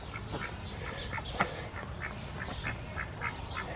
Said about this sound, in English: Love ducks too.